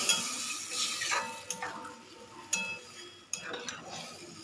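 A spoon stirring pangas fish curry in a pan just after water has been added, producing soft scraping and sloshing with a few sharp metallic clinks against the pot, close and moderately loud.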